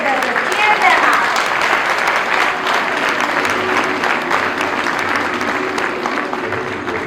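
Audience at a school performance breaks into sustained applause, loud and dense throughout and easing slightly toward the end.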